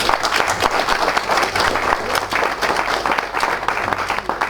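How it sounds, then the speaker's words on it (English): Sustained audience applause after a talk at the Menachem Begin Heritage Center, dense and steady clapping from a crowd throughout, loud and close. "Another round of applause."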